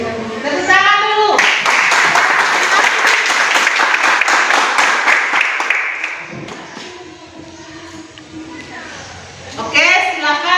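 A classroom of students claps together in a dense, loud burst lasting several seconds, framed by a teacher speaking before and children's voices chattering as the clapping fades.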